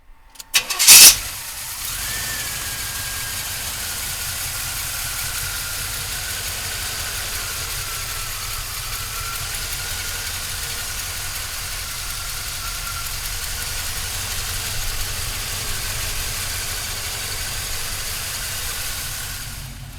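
A 1987 Chevrolet Silverado pickup engine cranks and catches after about a second, then settles into a steady, even idle that runs on loud and close for the rest of the stretch with no talking.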